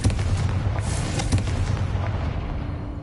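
Confringo blasting spell in the Hogwarts Legacy video game: a cluster of booming explosive blasts and crackling bursts, loud and close, tailing off into a low rumble.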